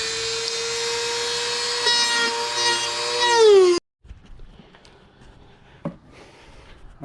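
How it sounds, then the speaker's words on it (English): A small Dremel rotary tool with a saw blade cuts around a speaker opening in a Jeep Gladiator soundbar, giving a steady, loud, high motor whine with grinding that winds down sharply before quiet handling knocks follow. "I'm going to use a little Dremel with the little saw and just cut all the way around it."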